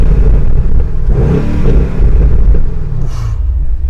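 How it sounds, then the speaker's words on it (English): BMW M850i V8 engine revved in sport mode, a loud, deep rumbling roar that swells and falls through a couple of throttle blips, heard up close with no talk. "if you press that button over there and you rev it now,"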